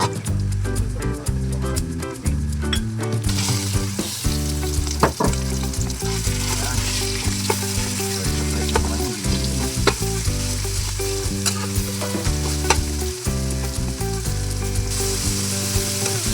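Onion and garlic sautéing in a pan for ginisang sitaw: a loud, steady sizzle and crackle of frying with occasional stirring scrapes, close up and continuous for about sixteen seconds, under background music.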